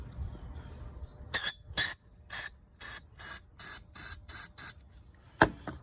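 Short hissing bursts of an aerosol spray can sprayed into an SRT8 Dodge Charger engine, about ten quick sprays in an uneven rhythm, close and fairly loud against a quiet background.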